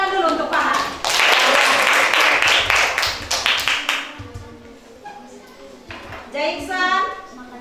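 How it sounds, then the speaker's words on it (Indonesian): A classroom of children claps for a classmate named Farhan, a burst of quick uneven hand claps mixed with young voices and chatter, then fading as talking continues. "Tepuk tangan dulu untuk Farhan"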